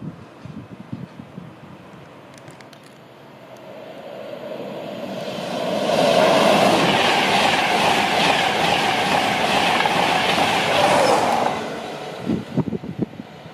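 A train rumbles along the rails with a rhythmic clatter, swelling louder as it passes close by, then easing off.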